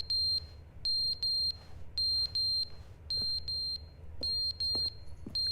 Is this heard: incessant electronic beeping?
yes